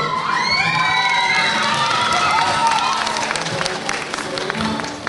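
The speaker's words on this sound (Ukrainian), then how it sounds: "Ваші оплески." An audience at a beauty pageant in Ternopil, Ukraine, breaks into loud applause mixed with cheering, shouts and whoops. The clapping and crowd noise stay dense and continuous throughout.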